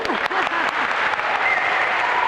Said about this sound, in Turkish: Kendi kendinizi bir alkışlayabilirsiniz.